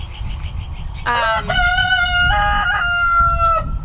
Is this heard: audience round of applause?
no